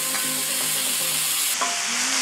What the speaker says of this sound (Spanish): Le pegamos una revolvida, bien revolvida, bien revuelta, así, revolviendo